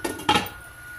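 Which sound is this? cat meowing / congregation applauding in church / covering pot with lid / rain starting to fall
covering pot with lid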